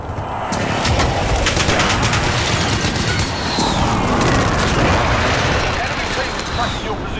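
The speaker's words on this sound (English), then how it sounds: "I'm under fire." Gunfire from Call of Duty: Modern Warfare, rapid automatic bursts and sharp shots crackling continuously and loudly, with booms and battlefield noise, alongside voices speaking over the combat.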